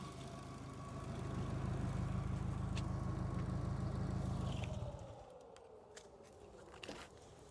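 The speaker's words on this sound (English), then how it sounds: "now I'm good to turn off the vehicle" A Subaru Forester STI idles with a low, steady engine rumble for several seconds, then cuts off abruptly, leaving quiet outdoor ambience with a few faint clicks.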